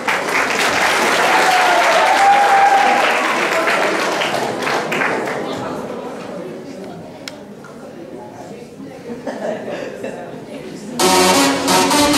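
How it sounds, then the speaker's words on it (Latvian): An audience applauds loudly and steadily for several seconds, the clapping gradually thinning and fading, then music cuts in abruptly at the end. "Aplaus, protams!"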